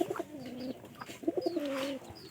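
Pigeons cooing indoors inside a house, with a few soft rolling coos repeating close by over a quiet background.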